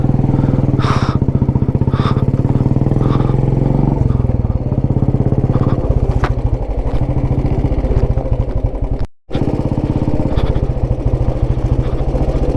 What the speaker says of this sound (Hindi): मैं उस गाड़ी से उतर के करण के पीछे बैठ गया हूँ बाइक पे